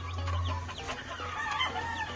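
Chickens clucking with a rooster crowing on a Hawaii farm, several overlapping calls and clucks in a busy cluster over a low steady hum, fairly close and with no talking.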